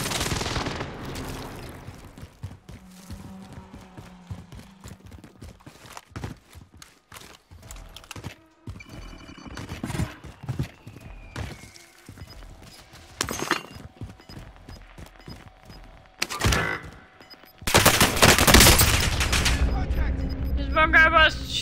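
Gunfire in the Call of Duty Warzone video game arrives as scattered single shots and short bursts, with a louder, sustained barrage near the end, while players talk throughout.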